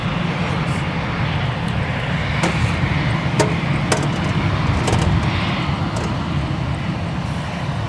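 A KLM heavy airliner arriving from Amsterdam Schiphol at Minneapolis–St. Paul Airport rumbles loudly and steadily, a broad sustained engine roar with faint clicks and rustles nearby.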